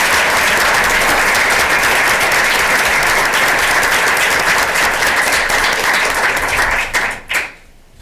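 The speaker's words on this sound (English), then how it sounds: "Please join me in applauding Bob and Erica for their amazing" An audience at a school board of education meeting claps in sustained, dense applause, loud and filling the room for about seven seconds before tapering off abruptly near the end.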